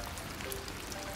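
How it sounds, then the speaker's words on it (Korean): Rain falls on a rainy day at home, a soft steady hiss of drops with faint scattered patters, quiet and even throughout. "오랜만에 비가 오는데"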